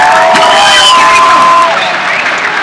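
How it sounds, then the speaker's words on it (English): A fan club crowd at a live UFC event Q&A cheers and applauds a prize winner, loud whoops and shouting over clapping that tapers slightly toward the end. "big round of applause for the California Kid"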